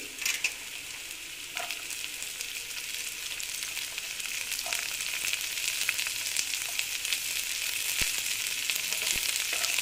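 Chopped carrots fry in a pan with a close, steady sizzle, punctuated by a few sharp scraping stirs and taps; no one speaks.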